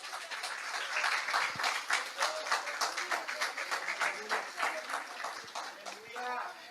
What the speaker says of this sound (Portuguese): Se Deus tem você na palma da mão hoje, aplauda Ele de todo o seu coração.